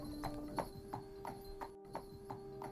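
A prince's horse clip-clops away at a steady walking pace, each hoof striking clearly and evenly, heard fairly close over a faint sustained tone.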